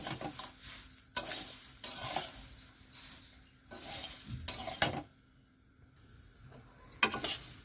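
Homemade spiced flattened rice (chire) is stirred while it fries in a pan, with repeated scraping bursts over a faint sizzle and short quiet pauses between strokes.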